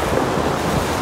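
Ocean waves break on the beach by the San Mateo campground as a close, steady wash of surf mixed with wind buffeting the microphone, with no talk in this brief stretch.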